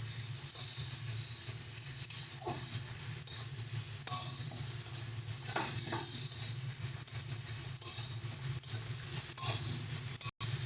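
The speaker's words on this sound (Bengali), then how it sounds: "ভালো করে টমেটোটাকে মশলার সাথে মিশিয়ে নেব।" Tomato stirred with spices in a pan, a steady sizzling hiss running throughout with scattered faint scrapes of the spoon, close and constant, ending in a brief dropout.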